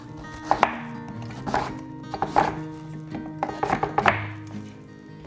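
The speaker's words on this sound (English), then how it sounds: "So I'm gonna cut this into large pieces that the food processor can then work on." A knife chopping raw vegetables into large pieces on a cutting board, about a dozen sharp, uneven thuds in loose clusters with quiet gaps between them.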